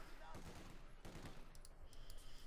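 Machine gun fire in Company of Heroes 2 during a 2v2 match, with bursts of rapid shots spread through the clip amid dense battlefield noise, fairly loud and continuous.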